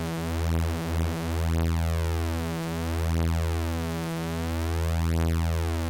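Steady synth oscillator tone from Bitwig with two stacked voices detuned across left and right, producing a sustained harmonic-rich drone with slow beating and phasing swells, alone without talk.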